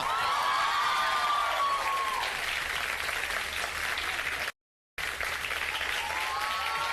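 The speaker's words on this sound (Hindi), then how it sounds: "बहुत सारी तालियां" Studio audience applause on a Sunday television show, a loud, dense wash of clapping with a few whoops and cheers mixed in, briefly cut to silence before resuming.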